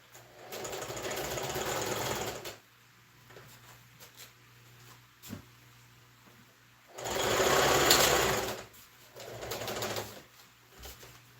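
An electric sewing machine stitches the seam of an Ankara skirt in two loud continuous runs, each lasting a few seconds and separated by a quiet pause with faint clicks.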